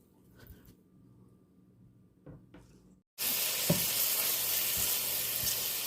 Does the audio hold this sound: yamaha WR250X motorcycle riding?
no